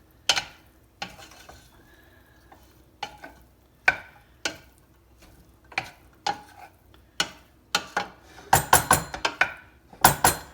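Pasta and vegetables mixed together in a pan, with scattered scraping and clinking strokes of a utensil against the metal that grow denser and louder toward the end, close by and without speech.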